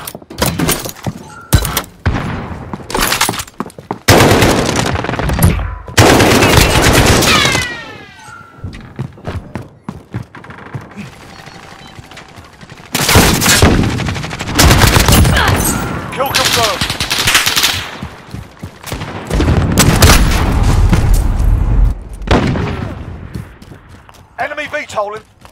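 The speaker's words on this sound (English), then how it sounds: "sentry gun active." Rapid automatic bursts from a sentry gun in Call of Duty ring out in loud, repeated volleys separated by short pauses, mixed with other battlefield gunfire, impacts and game voice callouts.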